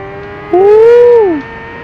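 A 2015 Kawasaki Ninja ZX10R at speed in the racing game Ride 2: a steady tonal engine whine suddenly jumps louder, climbs slightly in pitch, then drops back after about a second.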